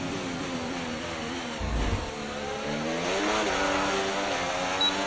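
Formula 1 car engine from the F1 24 racing game at the Austrian Grand Prix, a loud steady high-pitched whine rising and falling through gear changes, with a brief low thump midway and no voices.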